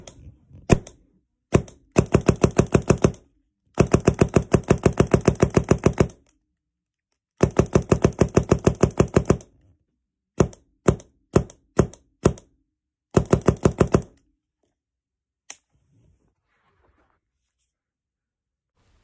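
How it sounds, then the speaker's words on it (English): An Empire EMEK 100 paintball marker dry fires under a pillow, with no paintballs loaded. Muffled, rapid strings of mechanical clacks come in bursts, broken by single shots and pauses, close and with no voices. "I am dry firing it under a pillow."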